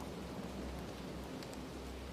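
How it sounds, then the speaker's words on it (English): Steady rain falls over a garden as a soft, even hiss with a low rumbling bed, faint and unchanging throughout, with no voices. "the rain falling steadily over it"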